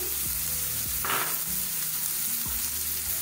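Onion, capsicum, grated carrot and cabbage for vegetable kababs lightly fry in a pan with a continuous close sizzle, broken by a few soft scraping stirs and a brief hiss burst, with no talking.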